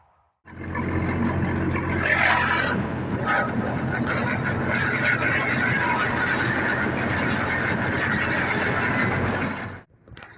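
Kentavr 244s tractor running a DTZ 1.5 rotary tiller through wheat stubble, a loud continuous engine drone with squealing, rattling metallic grind that starts abruptly and cuts off near the end.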